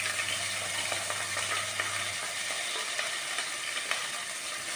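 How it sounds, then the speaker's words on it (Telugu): Onions frying in olive oil in a pot, a soft continuous sizzle heard close up, with faint occasional clinks and no talking. "ఎర్రగడ్డలు వేగనిద్దామండి కొంచెంసేపు"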